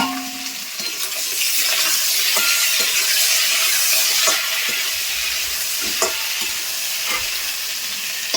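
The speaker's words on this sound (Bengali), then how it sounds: "এটাকে একটু হালকা করে আমি ভেজে নেব" Potatoes and red amaranth greens frying with garlic in a pan, a loud steady sizzle and hiss with occasional stirring scrapes, close up and alone without talk.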